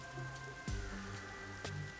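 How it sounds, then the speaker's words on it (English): Steady rain falls across the Marunomon District in Master Detective Archives: Rain Code, a continuous wash of patter mixed with a low tonal game soundscape and a couple of brief louder swells. "Yuma, do you not like the rain?"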